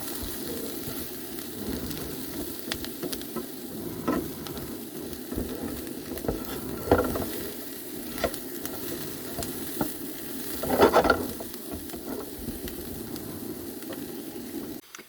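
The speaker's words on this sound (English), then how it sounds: "I turned the heat off onto the pan because the pan was hot enough, and I mixed all the garlic in there." Garlic being stirred in a hot pan after the heat is turned off, giving a soft continuous sizzle with occasional scraping stir noises, moderately close and without talk.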